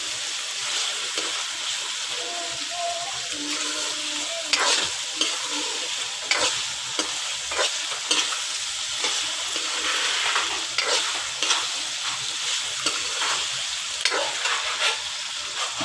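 Minced mutton for a cauliflower keema fries in a pan, a steady close sizzle broken by repeated scraping stirs of a spoon over about sixteen seconds.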